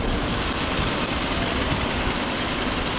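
Construction work near Duddell Street in Hong Kong, a dense, steady machinery rumble with broadband roar that fills the whole stretch at a constant level, with no talk over it.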